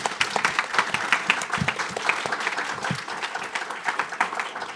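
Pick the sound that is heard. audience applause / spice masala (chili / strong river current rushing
audience applause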